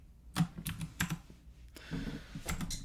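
Keys pressed as a shortcut combination on a Mac keyboard, a few separate clicks and soft taps in quick succession, close and fairly quiet, with no voice.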